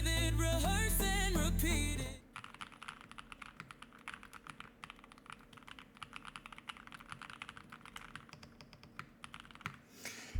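Quick, crisp clacking keystrokes on a custom-built mechanical keyboard, a steady close-up rattle of typing after a short burst of music fades out at the start.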